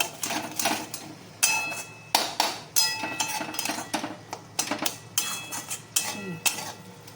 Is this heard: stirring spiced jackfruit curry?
yes